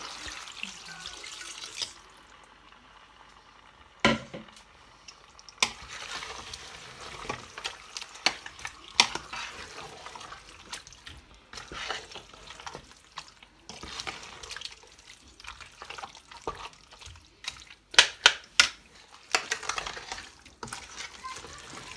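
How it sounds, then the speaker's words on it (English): Water is poured into a pot of traditional Nigerian egusi soup with fish and meat, then stirred, giving splashing, sloshing and irregular clinks and scrapes that come close and fairly loud. "You stir it together. You now add the water."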